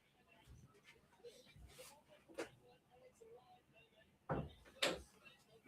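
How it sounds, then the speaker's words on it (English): A door is pushed shut indoors, giving two soft, quick knocks near the end of an otherwise quiet, faint stretch of room noise. "I need to close my door because I can't be loud."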